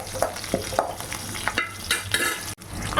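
A spoon stirs green and dried chillies frying in hot oil in a pan, with close, loud sizzling and a series of scraping strokes, then a brief drop to near quiet before the sizzle returns.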